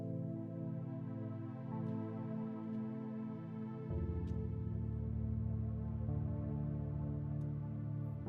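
Dark, sustained synth pad from a beat, a low droning chord that holds steadily, deepens and thickens midway, with faint, sparse clicks over it and no voices.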